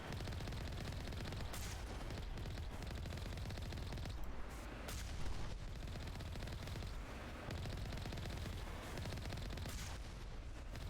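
Dense, sustained gunfire from the video game Mass Effect Legendary Edition rattles loudly and almost continuously, with brief dips and a few heavier bursts, and no one speaking over it.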